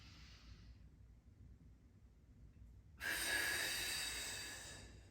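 After a stretch of near silence, one strong, breathy exhale rushes out and fades slowly, taken during a seated office exercise at a desk.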